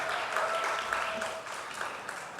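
A church congregation applauding after a testimony and a special song, a brief soft round of clapping heard from a distance.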